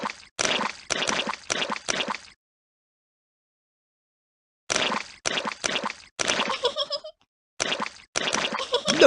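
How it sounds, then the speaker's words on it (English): Cartoonish splashing in muddy puddles from a Peppa Pig video game, bursts of wet plopping and squishing in quick clusters, separated by a silent gap, with bubbly watery effects. "Look at all that splashing!"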